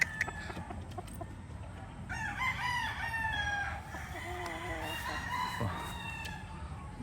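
Late-born, early-maturing gamefowl roosters crow repeatedly nearby with scattered clucks, the crows rising clearly over a busy barnyard background.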